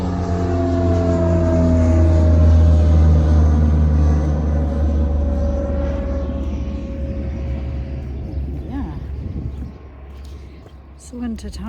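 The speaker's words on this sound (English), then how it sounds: "we're near the airport, so there is a plane taking off." A plane taking off near the airport in Monaco, New Zealand, a loud, close jet roar with a strong low rumble and drifting engine tones that swells early and slowly fades away as it climbs.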